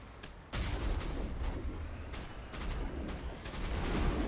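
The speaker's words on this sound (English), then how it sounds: "I didn't say you could shoot at me." Muffled bursts of gunfire in the video game Mass Effect, a dense rumbling volley that kicks in abruptly and keeps pounding at moderate loudness, no talking.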